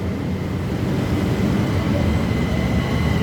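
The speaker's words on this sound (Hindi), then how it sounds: "मेट्रोचा आवाज येतोय, म्हणजे की जाऊन गेली आहे मेट्रो ऑलरेडी." Steady low rumble of a metro train moving nearby, a continuous broadband roar with no talking.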